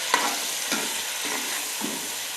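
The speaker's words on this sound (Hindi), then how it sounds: "अब हम इसमें शामिल करेंगे प्याज" Crushed onion frying in hot oil with cumin for a chicken white karahi: a steady close sizzle broken by a few periodic scraping stirs, with no voices.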